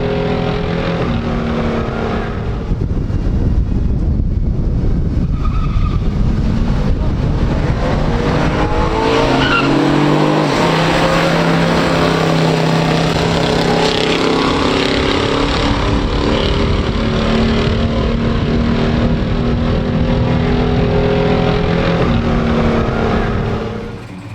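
Pure stock drag race between a 1965 Chevelle SS and a 1970 Camaro Z28 RS, with loud V8 engines roaring and revving continuously at full throttle, tires squealing, and the pitch rising and shifting as the cars pull away down the strip.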